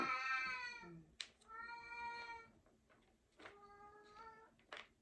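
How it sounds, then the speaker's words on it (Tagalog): A cat meows repeatedly at close range, several drawn-out, insistent calls with short pauses between them. "Nangigising ang aking pusa."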